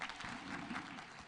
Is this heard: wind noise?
no